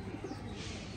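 A pigeon coos softly and briefly, low and muffled against a hushed background, the soft rounded notes barely rising above the ambient noise.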